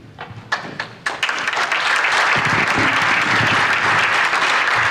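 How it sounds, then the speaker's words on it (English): A few scattered claps swell into sustained, loud applause from an audience at a congressional candidates' forum, filling the room after the first second. "that clap was for everybody sitting here"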